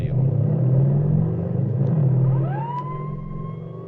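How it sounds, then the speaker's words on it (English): A stolen car roars past at speed, a loud, close engine rumble that swells and then fades, with a rising tonal whine near the end and no voices. "a car roars past them"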